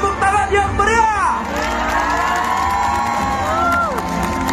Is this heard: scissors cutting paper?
no